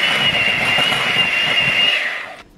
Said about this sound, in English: It's got my handy dandy blender here.